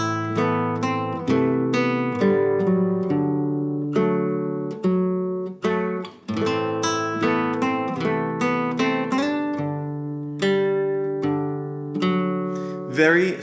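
Fingerstyle acoustic guitar plays the chords of a song with added notes, steady plucked arpeggios and ringing chord tones flowing continuously at moderate volume with no voice over them.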